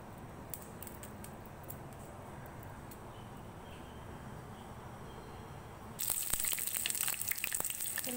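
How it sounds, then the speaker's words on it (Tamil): Chopped onion pieces fry in hot oil in a small pan for mutton trotter soup. A steady close sizzle hisses throughout, then swells into a louder, brighter crackle near the end. "எண்ணெய் காஞ்சிருச்சு, வெங்காயத்தை போட்டேன். கொஞ்சம் நல்லா பொன்னிறமாக பொறிச்சு எடுத்துட்டேன்."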